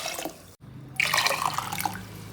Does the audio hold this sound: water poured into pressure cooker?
yes